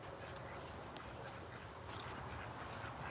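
Ducks and geese quack in the open near water, heard at a distance over steady wind and ambient noise, with no voices.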